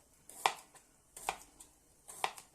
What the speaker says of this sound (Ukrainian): поки кабачок з цибулькою тушиться, нарізаємо морку